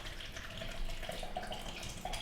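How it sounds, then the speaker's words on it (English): Regular tap water runs steadily from a faucet into a sink for washing fruit and vegetables, a continuous hissing splash that stays even throughout, close by with no talking. "tap water"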